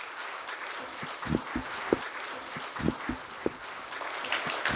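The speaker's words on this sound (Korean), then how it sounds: "큰 박수로 맞이해 주시기 바랍니다" Audience applause at a culture session of the Jeju forum, with scattered, uneven hand claps of moderate loudness rising over a few seconds in a hall.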